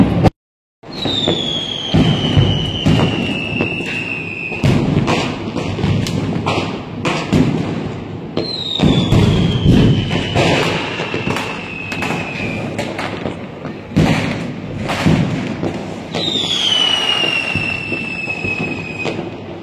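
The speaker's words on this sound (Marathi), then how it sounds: "एवढे फटाके फुटत आहेत" Diwali firecrackers and fireworks burst loudly and repeatedly along a jammed road, with sharp bangs, thuds and rising whistles of rockets going off one after another, dense and continuous.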